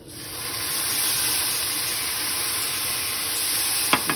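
Water from vegetables poured into a hot pan of frying tofu for street-food-style noodles with chicken bursts into a loud, steady hiss of sizzling that continues throughout, close up, with a couple of small clinks at the end.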